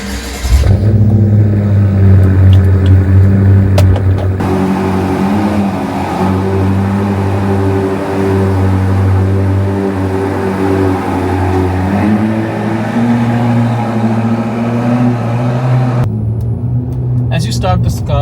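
A BMW F10 M5 saloon engine fires up and settles into a loud, deep, steady rumble close to the microphone, with a few swells as it is revved, continuing alone for most of the clip.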